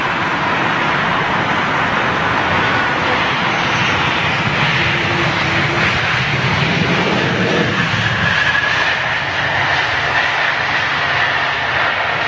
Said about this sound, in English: those guys at Swiss are really piling on the reversers now